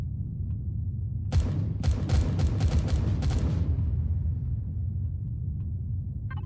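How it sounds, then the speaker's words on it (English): Cannons firing and explosions in Empyrion: a quick run of about six sharp bangs over a steady low rumble, then the rumble continues alone. "I hear my cannons attacking things and things exploding"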